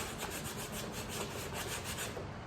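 Hand sanding of a 1993 S10 driver's door panel with 120-grit sandpaper gives a steady, continuous scratchy rubbing in quick back-and-forth strokes, close and alone with no voices.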